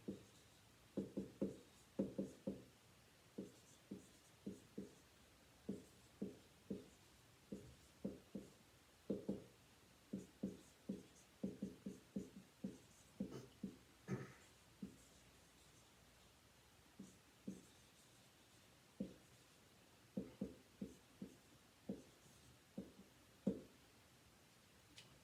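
Marker or chalk writing on a board during an instrumentation lecture on pressure, short clustered scratching strokes in repeated bursts with pauses between, faint and close, with no talking.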